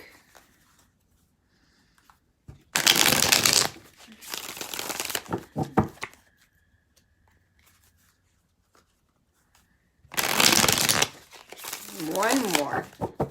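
Tarot cards are shuffled in loud riffling bursts, two long bouts separated by quiet, with papery crinkles and shuffles close to the listener and a voice talking faintly at points.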